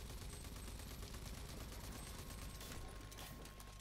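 Rapid automatic gunfire from a machine gun in the video game Rage 2, a dense continuous rattle of shots filling the whole stretch at steady loudness with no talking.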